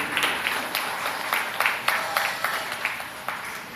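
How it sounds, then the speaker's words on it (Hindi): Applause and clapping from an audience at a BJP training event, a steady crowd patter with repeated bursts building across the clip, moderately loud with no talk over it. "जोरदार ताली बजा।"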